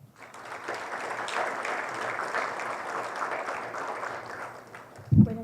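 An audience in a ministry hall in Peru applauds to welcome a speaker, with steady, moderately distant clapping that lasts about five seconds before a brief thump at the end.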